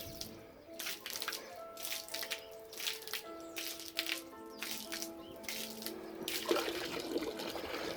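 Water gushing through the cooling system of a 1994 Range Rover during a flush, a steady splashing flow with gurgles and pulses that swell toward the end, no speech over it.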